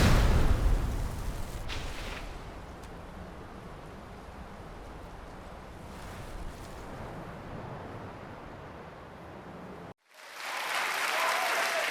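A loud, sustained rumbling roar of an explosion in Skyrim rolls on for several seconds, cuts to near silence, then bursts back in with crackling noise.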